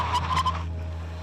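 A 2025 Ford Maverick Lobo brakes hard, its tires letting out a short, wavering squeal over a low engine hum that then settles.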